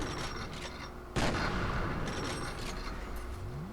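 Gunfire from a shooter video game's shotgun or rifle: one loud, sudden blast followed by a sustained booming, rumbling tail of reports, with no voices.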